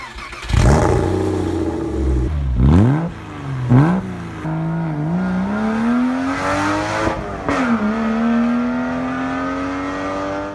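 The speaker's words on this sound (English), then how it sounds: "Flat 6, that's an iconic Porsche sound." A salvaged Porsche Boxster with a flat-six engine and straight-piped exhaust, driven with the top down: loud, raspy revs climb and drop through gear changes, then settle into a rising, sustained drone.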